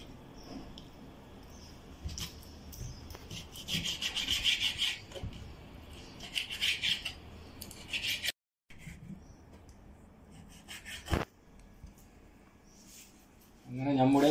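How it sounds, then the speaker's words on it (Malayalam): A knife cuts beef into small pieces on a board, making repeated scraping and rubbing strokes under a person speaking in Malayalam, with a sharp knock near the end. "ആ ബീഫ് നമ്മൾക്ക് ചെറിയ കഷ്ണങ്ങളായി മുറിച്ചെടുക്കാം."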